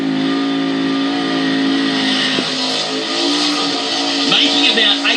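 A skid car's 850-horsepower engine screams at over 8,000 rpm, a loud sustained high-pitched rev that wavers slightly as the driver works the pad, with a commentator's voice faintly beneath.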